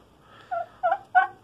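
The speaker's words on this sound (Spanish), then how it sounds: "vamos a ver también qué hacemos con ese pavo porque nos está maltratando a las pavas" A male turkey in a poultry yard gobbles in three or four quick, throaty bursts that grow louder, heard up close with no talking.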